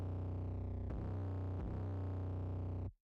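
A sustained, buzzing distorted tone from a limiter slammed with clip distortion, heavy clipping, holding steady at a constant loud level with two brief glitches, then cutting off abruptly.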